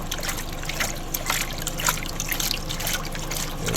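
Water pouring into a container for mixing Masterblend fertilizer, a steady splashing trickle heard close and continuous for a few seconds with no talking over it.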